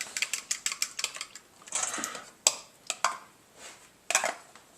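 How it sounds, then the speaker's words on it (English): Eggs being beaten in a bowl for pancake batter produce a quick run of rhythmic metallic clinks, then a short scraping stretch and a few scattered taps, all close and fairly faint. "beat up those eggs."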